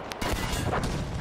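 A sniper rifle fires in Battlefield V on PS4, its sharp gunshot landing amid continuous battlefield gunfire and booms, loud and close with a short echoing tail.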